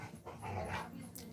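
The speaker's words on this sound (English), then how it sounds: "My dog." A dog makes a short close whimpering, panting vocalization lasting about a second, fairly quiet with a soft background hum.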